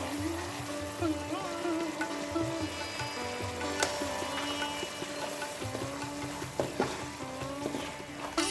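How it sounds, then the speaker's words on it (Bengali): Spice paste for a vegan wedding-style cauliflower roast sautés in oil, a continuous close sizzle with occasional stirring scrapes and clicks, while faint tonal sounds play in the background. "এবার আমরা মিশ্রণটিকে ভালো করে মিশিয়ে নিয়ে কষাবো কিছুক্ষণ ধরে, যতক্ষণ না এর থেকে তেল ছেড়ে আসছে"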